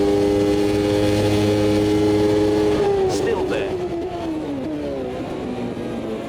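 A 1993 Formula One car engine screams at high revs in Automobilista 2, then drops through downshifts with shifting pitch as another car stays close behind, loud and continuous throughout.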